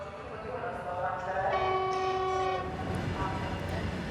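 A train at Ulaanbaatar Central Station in Mongolia sounds a long, steady horn blast over a low rumble of rolling cars, the tone holding for about a second before cutting off while the rail noise continues.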